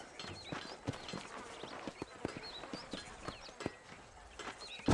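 Horse hooves clip-clopping in an uneven walking rhythm in the video game Red Dead Redemption, fairly quiet, with a few soft thuds mixed in.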